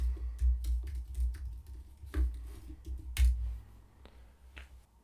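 Password keystrokes tapped on a computer keyboard, a quick irregular run of close, crisp clicks with short pauses between bursts, no talking.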